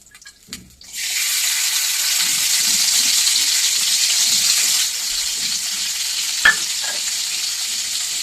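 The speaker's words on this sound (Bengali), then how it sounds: "রান্নাটা আমি অলিভ অয়েলে করবো। এর মধ্যে আমি প্রথমে দিয়ে দেবো এই রসুন কুচিগুলো।" Chopped garlic dropped into hot olive oil sets off a loud, steady sizzle that runs close and continuous. It eases slightly partway through, with a faint clink of a utensil and no talking.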